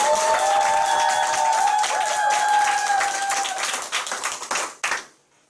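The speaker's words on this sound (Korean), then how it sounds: "우리 열심히 활동하신 한복기 사장님께 다시 한번 큰 박수 주세요" An audience claps warmly for a business leader at a group meeting, steady dense applause with a sustained tone ringing underneath, then thinning into a few scattered claps before falling silent.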